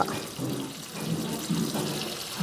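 Tap water running into a sink while grapes and apples are rinsed and soaked, a soft continuous rush and splash at low level, steady with slight surges, no talking.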